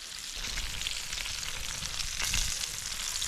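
Brook trout frying in a pan over a shore lunch on thin ice in Ontario, a steady loud sizzle and crackle of hot oil that swells briefly near the end.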